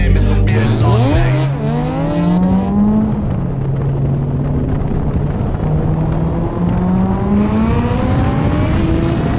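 Suzuki Hayabusa motorcycle with a stock engine running loud and close, its rising and falling revs steady across the clip, high-pitched whine sweeping up sharply at the start and then climbing gradually.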